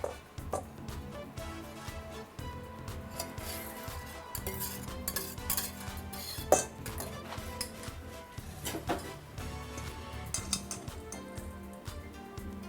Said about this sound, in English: Now I'm going to put this all right through my strainer, which I put right inside my bowl so I don't have any extra egg pieces